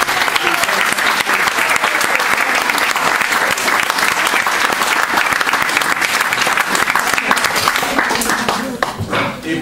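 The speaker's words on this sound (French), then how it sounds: "On peut applaudir l'équipe de coach." An audience at a ceremony applauds a coaching team, dense sustained clapping from a large crowd that fills the room at steady loudness, with faint voices mixed in and tapering off at the end.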